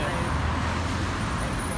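Steady low road rumble of passing cars in Sydney traffic, a continuous wash of engines and tyres at moderate distance with no single vehicle standing out.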